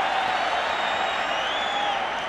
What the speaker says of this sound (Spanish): Hay público que aplaude, pero la mayoría le pita a Leo Franco.